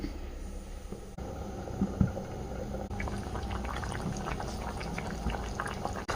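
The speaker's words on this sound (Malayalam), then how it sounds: "ഇതാ നന്നായിട്ട് തിളച്ചിട്ടുണ്ട് കുറുകി വന്നിട്ടുണ്ട്" Curry bubbling as it boils and thickens in a covered pot, a steady low simmer with soft gurgles and occasional louder pops, close by and continuous with no talking.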